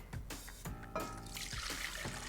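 Tempered egg and hot milk mixture for vanilla pastry cream pours back into a pot with a brief, close liquid trickle and splash, softly audible over kitchen background.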